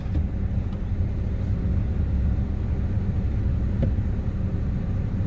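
Car driving slowly through a historic small town, a steady low road and engine rumble throughout with a faint occasional tick, no voices.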